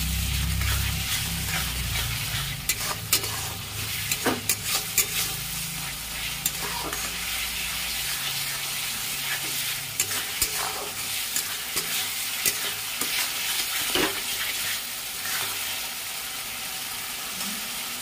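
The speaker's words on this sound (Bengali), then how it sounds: "টমেটো কেটে রেখেছি, দিয়ে দেব। মশলাটা ভালো করে কষিয়ে নেব।" Spice paste with chopped tomato stir-fried in oil, a steady, close sizzle with frequent sharp scrapes and clacks of a spatula against the pan running throughout, and no talking.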